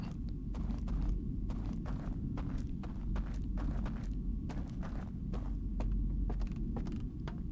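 Footsteps creak and thud in a steady rhythm through a narrow hallway in Outer Wilds: Echoes of the Eye, drawing nearer over a dense low rumbling drone, with no one talking.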